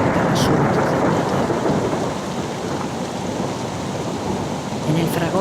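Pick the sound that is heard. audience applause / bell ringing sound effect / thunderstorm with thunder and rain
thunderstorm with thunder and rain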